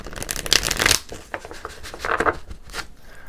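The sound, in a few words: shuffling tarot cards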